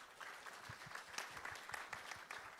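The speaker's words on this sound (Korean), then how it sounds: "박수로 환영해 주시면 고맙겠습니다." An audience at a manufacturing AI solution pitching event claps to welcome the next presenting company, a moderate, fairly distant patter of many hands with some individual claps standing out.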